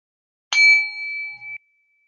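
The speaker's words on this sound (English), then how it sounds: "I'm going to ring this bell." A mindfulness bell is struck once, giving a clear bright ding that rings out alone and fades over about a second before cutting off.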